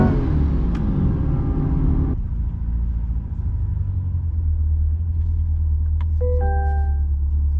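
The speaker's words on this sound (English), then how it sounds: "Pulled up to Dollar General in the C8 Corvette." A C8 Corvette's engine rumbles low and steady at close range, with a brief louder stretch at the start before settling into a deep idle, followed by a few light chimes.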